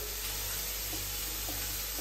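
Green chillies and curry leaves sizzle in hot oil in a pan, a steady loud hissing crackle filling the whole moment without any break or voice.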